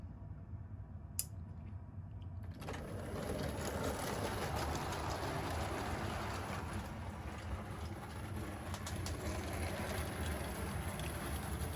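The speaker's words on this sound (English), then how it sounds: "It runs pretty smoothly once again for an old locomotive" An old model locomotive runs along its track with a steady, smooth mechanical whir that starts abruptly after a quiet moment, then continues evenly at close range.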